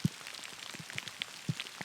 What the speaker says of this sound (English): so the rain's really coming down now